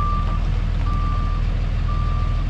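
A step van backs up at a camp, its reversing alarm giving three long, evenly spaced beeps over a loud, steady diesel idle rumble, fairly close and with no talking.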